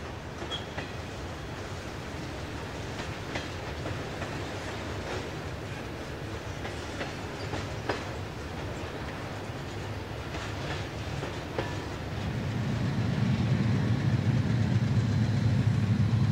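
A CSX train rolls slowly by at about 15 mph through a junction on the Fitzgerald Sub, with faint wheel clatter and rumble building louder toward the end as the cars pass close by.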